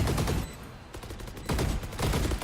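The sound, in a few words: gunfire in the Valorant video game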